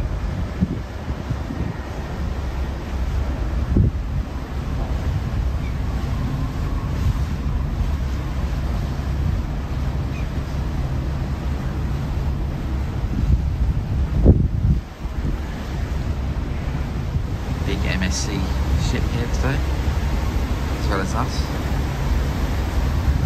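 Strong wind buffeting the microphone on a fresh, sunny, blowy day in Helsinki during a Baltic cruise stop, a constant loud low rumble with gusty swells and a faint sea-like wash beneath.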